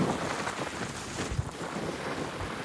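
Strong, cold wind on a seashore in Taiwan buffets the microphone in a steady roar with occasional low thumps, no voices.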